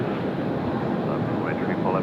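A Jetstar passenger jet rolls out on the runway at Sydney Airport after landing, a steady broad engine and wind roar heard from a distance, continuous and fairly loud with a faint higher whine toward the end.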